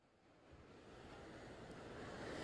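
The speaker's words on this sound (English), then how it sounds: "The waves have died down." Ocean waves rolling in at Clearwater Beach after a tropical storm, a steady broad wash of surf that builds gradually louder, with some wind and no voices.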